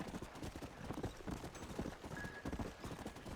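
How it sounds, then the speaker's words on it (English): Rapid, rhythmic hoofbeats of a galloping horse in Red Dead Redemption, close and steady across a short stretch. "Esse que é meu cavalo"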